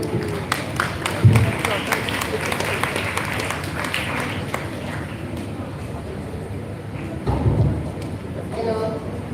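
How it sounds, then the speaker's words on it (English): Applause at a school event, a dense crackling wash of clapping from a crowd that runs continuously, with a few louder swells, heard at a moderate distance. "Let's encourage her with a big round of applause."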